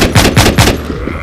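Three quick, loud gunshots ring out in close succession in the video game Walking Zombie 2, with nothing else heard.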